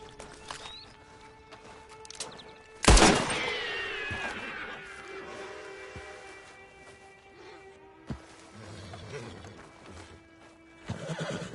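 In Red Dead Online a horse gives a loud, close whinny that trails off over a couple of seconds, with hoof clip-clops and scattered thuds around it and a quieter stretch of movement afterward.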